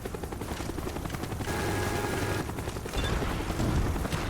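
A helicopter in a video game comes under sustained gunfire, a steady rotor drone overlaid with rapid bursts of shots and heavier impacts that build toward the end, fairly loud and continuous with no talking.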